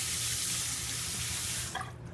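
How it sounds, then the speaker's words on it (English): A razor rinsed under a running tap, a steady close stream of water splashing into a sink, briefly disrupted near the end as the blade passes through. "And so let's rinse the razor."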